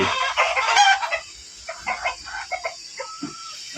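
A Fayoumi chicken clucks and calls close by in short bursts, with a few softer clucks and faint rustling between them.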